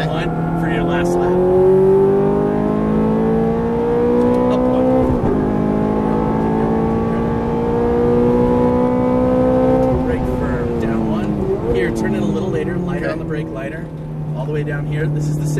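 A Ferrari F430 on a Las Vegas race track revs loud and close, its engine note climbing through gears in long sweeping pulls, with an instructor talking over the roar.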